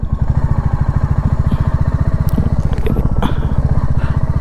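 Motorcycle engine running steadily during an evening ride, a loud close rapid putter with even firing pulses throughout, a few faint clicks on top.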